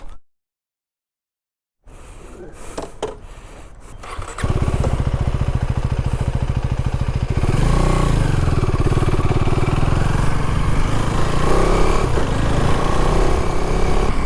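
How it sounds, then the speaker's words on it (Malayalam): A Husqvarna Svartpilen 401 motorcycle: after a brief silence and some handling noises, the engine fires up into a loud, close, throbbing idle, then steadies into a stronger, sustained running rumble. "നമ്മുടെ ഹുസ്ക്വാന 401 എടുത്തിട്ട്"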